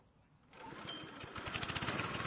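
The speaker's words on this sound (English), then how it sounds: "Start the engine," A reel mower's small engine sputters to life after a short quiet moment, then runs with a steady, rapid mechanical chugging that grows slightly louder.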